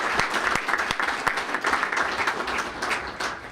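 A crowd at a city State of Our City address applauds the fire department, a dense, steady wash of many hands clapping for several seconds with no talk over it.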